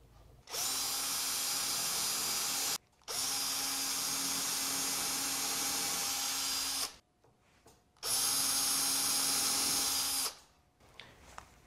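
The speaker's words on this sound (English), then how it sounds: "mark them and then come back and drill them" An electric drill whining at high speed in three long bursts, drilling holes in a wooden box, separated by short pauses, close and loud.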